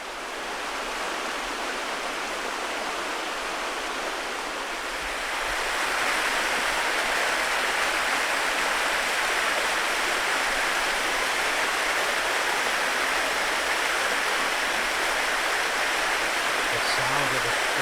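Spring-fed mountain creek water flowing steadily near an off-grid homestead, a dense broadband rush that grows slightly louder partway through and continues alone.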